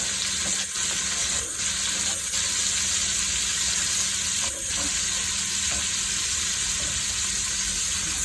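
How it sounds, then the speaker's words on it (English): Onions frying in a pot still greasy from cooking bacon, a dense, constant close sizzle and crackle that carries on without a break. "Put the onions in here, turn it up just a little bit."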